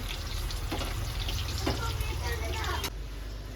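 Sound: potatoes frying in oil

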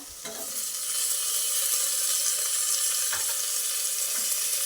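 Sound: frying onion and tomato in a pan

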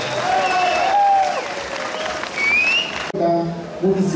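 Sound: crowd applause at a festival parade

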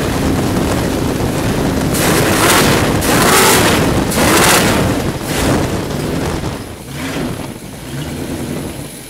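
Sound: Chevy 350 V8 engine with four-barrel carburetor revving

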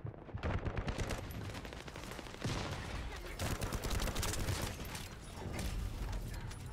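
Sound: gunfire in The First Descendant video game

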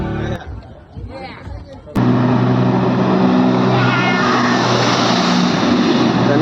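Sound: jet ski ride on water

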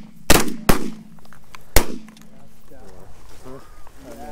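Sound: shotgun shots at mallard ducks

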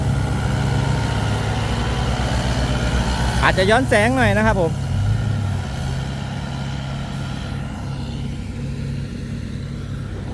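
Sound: Kubota M108S tractor engine pushing clay

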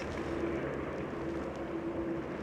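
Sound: helicopter flying low nearby

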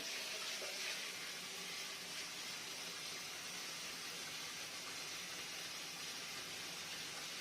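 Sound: hot water running from tap after combi boiler repair

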